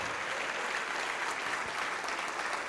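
A church congregation applauds together, a steady, even wash of clapping that holds at moderate volume throughout with no voices on top.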